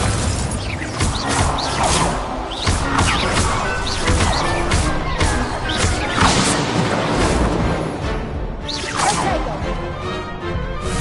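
Hogwarts Legacy duel combat around the Incendio fire spell: a steady run of sharp whooshing crackles, bursts and impacts, loud and busy with no pauses.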